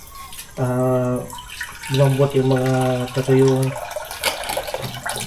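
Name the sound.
tap water running to soak dried meat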